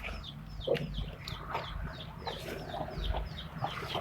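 Chickens and ducks feeding on boiled taro mixed with rice bran, with a steady run of close clucks and soft calls from several birds over a low background, no speech.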